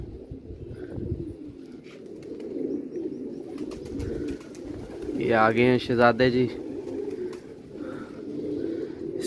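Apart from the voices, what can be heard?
Multani pigeons cooing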